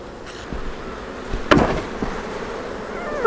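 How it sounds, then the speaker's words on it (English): Honey bees buzz in a steady drone around a beehive, with a thick beard of bees clustered and hanging off the front, with a sharper knock or thump partway through. "Lots of bearding bees here."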